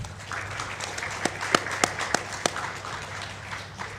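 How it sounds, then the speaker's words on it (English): Sparse applause from a small audience at a T20 and B20 joint session for two online speakers, a soft bed of clapping with a few sharp, distinct claps standing out near the mic, fairly quiet overall. "we give applause to our two speakers online"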